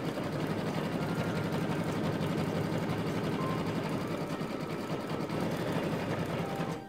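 An embroidery sewing machine stitching a Disney design, running in a dense, continuous rapid needle rhythm at an even level for the whole stretch, close and with no talking.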